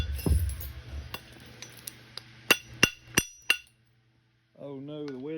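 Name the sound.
hammer striking Texas chert while flintknapping an arrowhead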